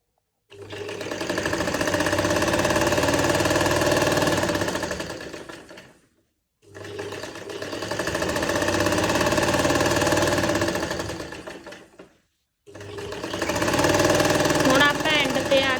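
An electric sewing machine stitches a shirt side seam in three long continuous runs, a loud fast mechanical whirr with short pauses between bursts, no talking.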